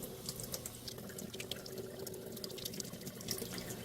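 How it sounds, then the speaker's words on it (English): Tap water runs steadily over a Terra Kaffe TK-02 espresso machine water filter held under it, a faint continuous splash of flowing water, with no talking. "this is the filter, and they say to hold it under running water for 30 seconds"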